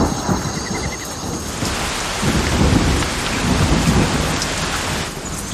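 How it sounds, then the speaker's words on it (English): Heavy rain pours steadily in the Amazon rainforest with rolling thunder rumbling through it, a dense, loud wash of sound that swells midway and stays strong. "The family sense a heavy downpour on its way"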